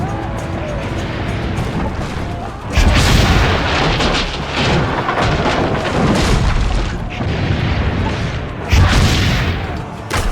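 Cannon fire in Assassin's Creed Brotherhood booms in heavy, dense volleys, with big surges near three and nine seconds over a continuous rumble of battle noise.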